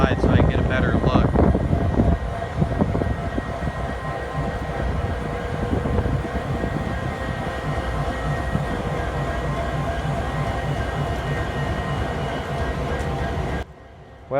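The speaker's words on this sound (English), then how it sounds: "We got two EMDs just running in the background." Two Union Pacific EMD diesel locomotives idle in Worthington, Minnesota, giving a steady, continuous low engine rumble that runs through the whole stretch, with a brief louder handling noise at the start and an abrupt drop near the end.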